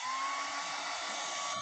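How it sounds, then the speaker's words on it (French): A hair dryer blowing air into the controller port of a Nintendo console during cleaning, a steady close whirring hiss with a faint tonal whine, running continuously and alone. "Un petit coup de sèche-cheveux pour le port numéro 2."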